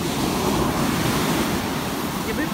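Ocean waves crash and wash continuously on Bondi Beach in Sydney, loud and close, with wind buffeting the microphone.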